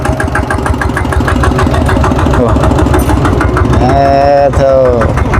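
Engine of a water well drilling truck running loud and close, a steady rough idle with rhythmic pulsing, and people talking over it.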